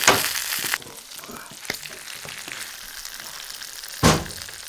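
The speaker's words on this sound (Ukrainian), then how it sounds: "Викладають на пательню кишку, а поміж нарізані шматки сала. І на малому вогні, щоб не горіло і поволі сало топився жир" Buckwheat blood sausage fries with pieces of lard in a pan over low heat, giving a steady close sizzle with a louder crackling burst at the start and another flare near the end, and no talking.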